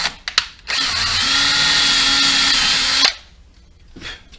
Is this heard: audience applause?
no